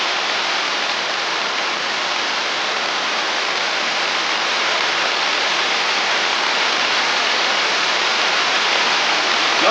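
A Norwegian mountain river rushes in a steady, loud, dense roar of churning water that carries on unbroken throughout.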